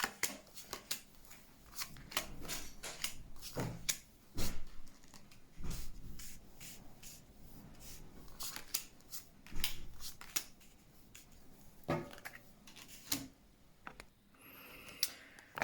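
Tarot cards being shuffled and drawn at close range, with rapid riffling and flicking bursts, soft slaps and rubs in an uneven rhythm, and no talk.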